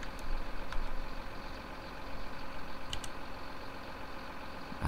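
Farm vehicle engine running in Landwirtschafts-Simulator 19, a steady low idling drone that continues unchanged throughout at moderate loudness.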